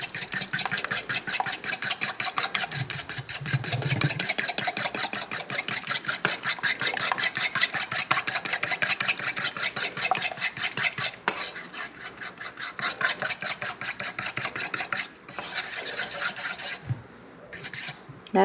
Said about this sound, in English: You could use a whisk or a fork. The fork acts like a mini whisk.